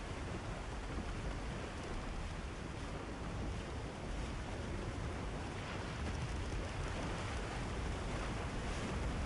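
A boat sailing across open sea in the video game Tchia, with a continuous wash of waves and wind rushing steadily throughout, no music or voices.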